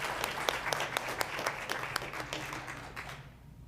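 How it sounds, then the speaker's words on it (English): Audience at a school district board meeting applauds families in the crowd, a steady patter of many hands clapping with sharp individual claps standing out, tapering off toward the end. "we'd like to give them a round of applause also"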